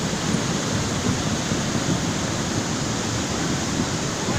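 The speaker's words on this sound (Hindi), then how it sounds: "अरे उधर ना जा, पानी तेज आ गया।" Strong rushing water floods past in a steady, loud broadband roar that fills the whole clip without a break, with no voices over it.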